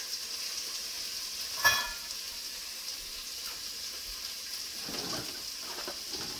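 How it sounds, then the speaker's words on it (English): Onions and garlic frying in a pot make a constant, gentle sizzle, with one sharp clank near the start and a few soft stirring scrapes later, close and without voices. "I'm going to add my onions right to my pan. my pot right now, and the garlic."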